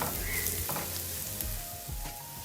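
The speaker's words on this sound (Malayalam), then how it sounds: "1/2 ടീസ്പൂൺ നമ്മുടെ ചിക്കൻ മസാല അല്ലെങ്കിൽ ഗരം മസാല ഇതൊക്കെ ഇട്ടിട്ട് നമുക്ക് പച്ചമണം മാറുന്നത് വരെ വാട്ടിയെടുക്കാം" Onions sauté in a pan with chicken masala or garam masala for an egg curry, giving a steady, soft, close sizzle with faint stirring and no talk.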